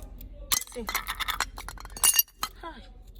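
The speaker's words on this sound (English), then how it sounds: "See the way the deep freezer broke my glass cup. See the way it's falling apart." Broken pieces of a glass cup, cracked in a deep freezer, clink and rattle against each other in quick, irregular bright clinks, close up, with some handling noise and a voice faintly present.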